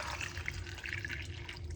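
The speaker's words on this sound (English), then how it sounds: "Let's get some water into it." Water is poured into a detox juice drink, a continuous close splashing and trickling that holds steady for the whole moment without a pause.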